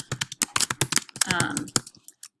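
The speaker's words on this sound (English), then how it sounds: "you can click and you can type in your own words" Rapid clicking keystrokes on a computer keyboard, close and crisp in a quick irregular burst lasting about two seconds, with no speech.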